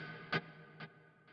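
Guitar notes run through a Two Notes Genome studio delay with chorus, three soft decaying repeats spaced about half a second apart, each fainter than the last, with no one talking.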